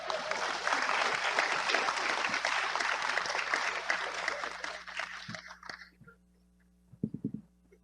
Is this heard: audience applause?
yes